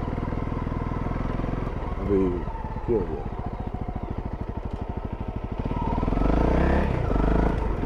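A motorcycle ridden off-road during ABS brake testing, its engine droning and pulsing with brief revs and clatter, heard close under someone talking.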